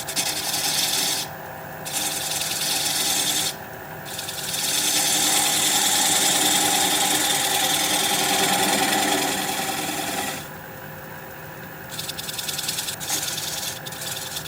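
A wood lathe turning the bottom of a bowl, a steady continuous scraping rasp of the tool on spinning wood with brief pauses as the cutter lifts off, close and alone with no talk.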